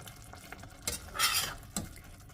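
Ridge gourd milk curry is stirred in a pan, with a spoon scraping and swishing through the thick mixture in a few short, close strokes over a faint simmer.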